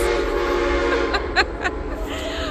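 A train's long, droning horn holds steady and loud over rumbling, broken by a few brief sharp bursts near the end.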